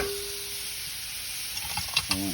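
Shelled, deveined prawns sizzling in a stir fry on a Weber barbecue, a continuous close hiss with a few clinks and scrapes near the end.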